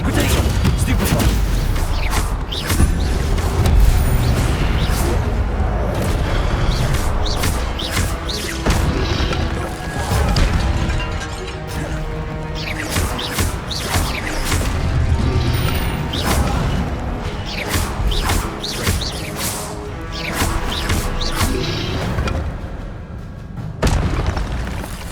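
Hogwarts Legacy spell blasts, fire and stunning spells in combat, land as repeated booming impacts and crashes over a dense game soundscape for about 25 seconds, with voices speaking in places.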